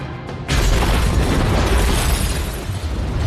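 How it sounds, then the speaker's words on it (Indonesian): A sudden loud blast as a door explodes in a film scene after a brief quiet moment, followed by a sustained roaring rumble and crackling debris. "pintunya malah meledak"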